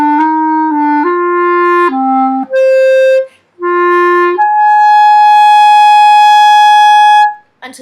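A clarinet plays a short run of notes, then settles onto a higher pitch and holds it out steadily for about three seconds before cutting off. The tone is loud, close and clear, and no voices are heard.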